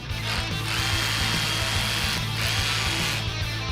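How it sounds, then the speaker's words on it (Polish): A power drill bores anchor holes into a garage wall, a steady loud grinding whine with a rhythmic pulsing hammer beat running continuously throughout. "Wywierciliśmy otwory pod kołki."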